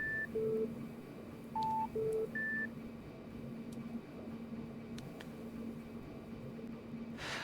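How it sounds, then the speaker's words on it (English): A water-quality checking device in the 1999 Resident Evil 3 Nemesis video game gives a short run of electronic tone beeps at differing pitches, then fades into a steady noisy hum with occasional faint clicks. "So it's going to beep at us one more time."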